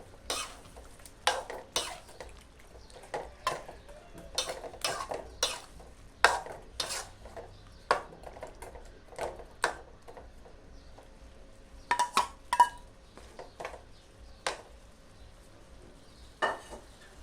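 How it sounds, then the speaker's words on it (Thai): Pork being stirred into a pot for pumpkin curry, with a utensil scraping and clinking against the metal in irregular bursts over a quiet sizzle across a long stretch, close by and with no speech. "ใส่หมูลงไปค่ะ ใส่หมูลงไป ใส่หมูลงไป"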